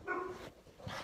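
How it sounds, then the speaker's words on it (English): A dog in a bedroom gives a short, muffled bark or yip, faint and somewhat distant, with a second softer yelp near the end. "just scared my dog. Did you hear him bark?"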